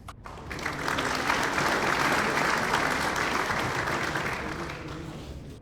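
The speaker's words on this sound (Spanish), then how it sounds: "Recibamos un aplauso al señor Roberto Samaniego" Audience at a compliance officers' event applauding a speaker, a steady, dense wash of clapping that swells quickly and holds evenly before tapering slightly.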